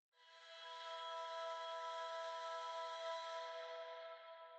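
A sustained synth pad built from dubstep vocals rings out alone, bright and airy with stacked steady tones, swelling in quickly and holding evenly at moderate loudness before easing slightly at the end.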